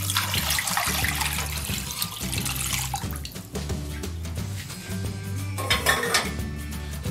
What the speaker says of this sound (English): Then we're gonna add some cold water.